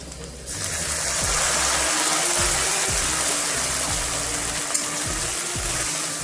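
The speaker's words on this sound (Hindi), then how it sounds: "तो फ्रेंड्स अभी मैं थोड़ा सा पानी ऐड करेंगे।" A little water hits a hot pan of frying carrots, beans and dry fish, setting off a loud, steady hiss and bubbling close by, with a few soft utensil knocks.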